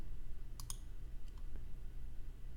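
A computer mouse clicks to run a Python module on a Raspberry Pi humidity project, heard as a quick pair of sharp clicks followed by a fainter pair, close and over a low steady hum.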